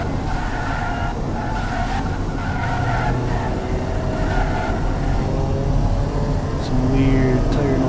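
Simulated car tires in the Automation racing game squeal and hiss continuously over a droning engine on a test track, loud and sustained, with a voice talking over parts of it.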